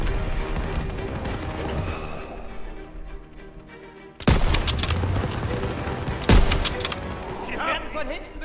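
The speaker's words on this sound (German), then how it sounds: "Von hinten beschossen!" Gunfire in the World War II shooter Call of Duty WWII, in a street fight against Germans on rooftops: dense rattling volleys and bursts, loud and close, with heavy blasts partway through and shouted game dialogue under the shooting.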